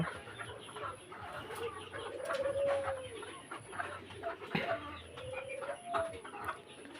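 A small flock of Fayoumi hens cluck and murmur, with a couple of drawn-out calls rising above the steady clucking; close by, no talking.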